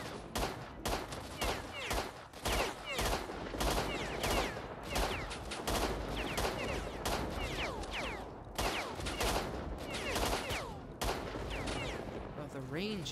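Gunfire in the video game S.T.A.L.K.E.R.: loud, close shots crack in rapid bursts and single reports almost continuously for over ten seconds, with a few short gaps.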